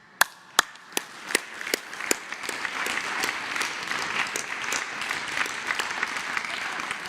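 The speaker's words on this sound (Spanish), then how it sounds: "Un aplauso." Applause at a morning presidential press conference in Mexico, opening with a few sharp isolated claps that quickly swell into steady, dense clapping from the room audience, moderately loud and continuing to the end.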